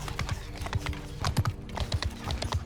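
Horse hooves in the Mount and Blade Bannerlord video game, a rapid galloping clip-clop of several mounts at close range, dense uneven thuds running throughout without speech.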